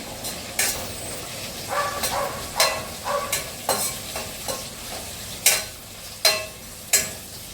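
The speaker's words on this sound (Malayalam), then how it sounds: "അതിൻ്റെ കൂടെ വേപ്പില പച്ചമുളക് ഇത്രയും കാര്യങ്ങൾ ചേർത്ത് കൊടുക്കുക ഇനി ഇത് നന്നായിട്ട് ഒന്ന് വഴറ്റി" Curry leaves and green chillies sautéing in hot oil for a Kerala-style duck curry, with a steady sizzle broken by about a dozen sharp spatula scrapes and stirs against the pan, close and fairly loud, no talking.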